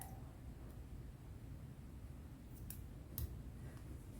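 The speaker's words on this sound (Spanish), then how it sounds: "sacamos el hilo, cortamos" Scissors snip crochet yarn in two or three quick, crisp cuts against a steady hiss of background noise, with no talking.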